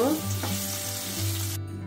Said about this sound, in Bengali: এই যে আলুটা ভাজা হয়ে গেছে, লাল লাল করে ভেজে নিয়েছি